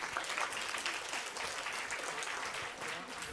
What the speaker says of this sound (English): So just give us a round of applause really quick for that